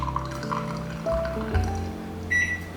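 Water rushes from an espresso machine in one big flush at home, a steady pouring flow with a gurgle near the middle, heard over soft background music.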